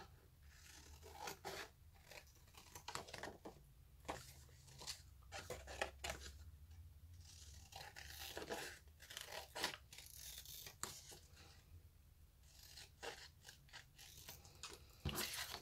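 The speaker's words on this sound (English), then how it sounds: "I'm going to just cut that." Scissors snip through book pages close up in repeated short crunching cuts with uneven pauses between them, quiet and without talk.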